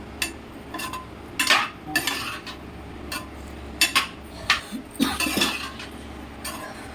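Cauliflower pieces stirred in hot oil in a pan, with repeated scraping and clinking of a utensil against the pan in irregular bursts over a low sizzling background; no speech.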